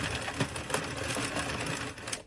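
A circular knitting machine is cranked by hand while knitting a flat panel, giving a continuous rapid mechanical whirring and clicking, close and fairly loud, with no speech.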